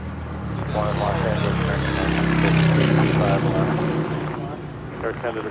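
An airliner arriving at LAX after a flight from Toronto, its engines a broad rumbling roar that swells and fades as it passes near, with people talking over the noise.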